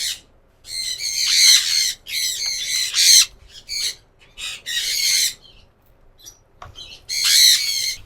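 A parakeet chick squawks in loud, harsh bursts, about eight close calls separated by short pauses, with no other sound between them.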